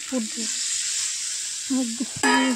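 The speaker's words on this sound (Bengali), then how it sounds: "কষানো আলুর মধ্যে দিয়ে দেবো এই দুধটা" Amul milk poured into sautéed potatoes in a hot pan, sizzling steadily with a bright burst of hissing near the end, while someone speaks briefly over it.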